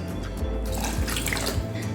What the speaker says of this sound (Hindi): इसके साथ ही डालेंगे 2 कप पानी